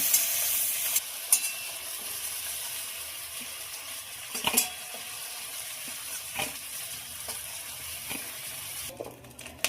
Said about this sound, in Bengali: ভাজার জন্য খুব ভালোভাবে নেড়ে দেবো।